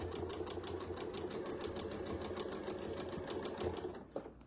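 A sewing machine stitches fabric in a steady fast run of needle strokes that continues close up for several seconds before stopping, with no talk over it.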